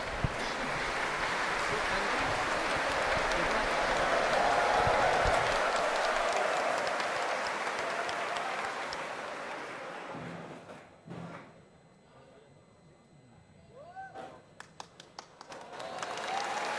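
Audience applause at an opening ceremony in Indonesia, a steady dense clatter of many hands that fills the first ten seconds, then fades to a quieter room with scattered claps and brief voices.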